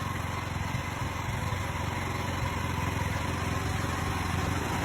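Small 125cc motorcycle engine driving a homemade excavator runs steadily and close by, a continuous buzzing idle with rapid firing pulses and no pauses.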